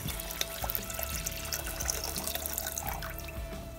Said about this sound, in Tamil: இப்போ தண்ணி ஆட் பண்ணுறேன்.